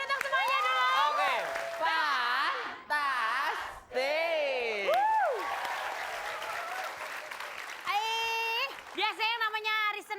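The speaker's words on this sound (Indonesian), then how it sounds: "Tapi kita kasih tepuk tangan untuk semuanya dulu." A studio audience applauds for a Japanese-language lesson show featuring a geisha, with broad, steady clapping that runs beneath loud, animated talk and excited exclamations.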